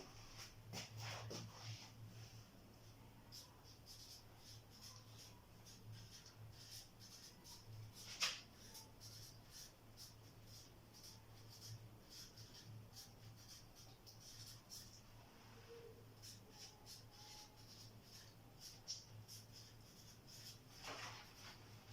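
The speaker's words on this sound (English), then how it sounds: "I'm going to go ahead and write it down, okay?" Chalk or marker writing out an example sentence by hand in a classroom during a language lesson, a faint scratchy stroke sound running steadily for over twenty seconds over a low background hum, with a few sharper taps.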